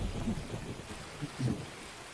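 Rain in the Escape from Tarkov video game, a steady hiss of downpour with low rumbling underneath, fairly quiet and continuous with no voices.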